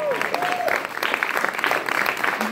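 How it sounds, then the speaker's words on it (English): A crowd at a Men of Excellence Award ceremony breaks into loud, sustained applause, with a few short tones and voices mixed into the clapping. "Please, everyone, the biggest round of applause."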